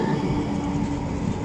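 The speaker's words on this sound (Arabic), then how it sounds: "هاي القطار هذا." A train passing through the city of Norrköping, a steady loud rumble of rail cars running continuously and close by, with no voices over it.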